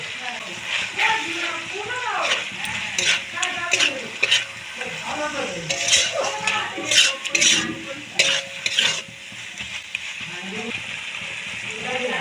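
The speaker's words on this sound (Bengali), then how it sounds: "ভালো করে খুব ভালো করে মশলাটা কষিয়ে দেবো" Bhola fish fries in a pan with ginger-cumin paste, green chili paste and turmeric, with repeated scraping stirs and a steady sizzle heard close up while a voice talks over it.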